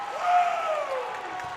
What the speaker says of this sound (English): And you can hear the excitement from this crowd right now.